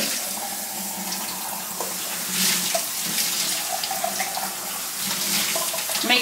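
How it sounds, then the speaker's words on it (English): Canned black beans are rinsed and drained under a running kitchen tap, a steady, loud splashing gush into the sink that continues throughout with no talk. "Going to quickly rinse and drain these."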